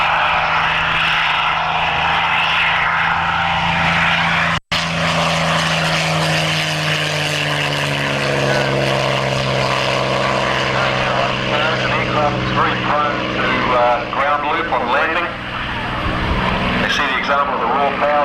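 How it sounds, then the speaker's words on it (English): A propeller aeroplane roars through a steep climb at a Matamata Airfield air show, its engine loud and sustained with shifting pitch as it hauls upward, while a commentator talks over it. "just hauling the aeroplane straight up into the sky"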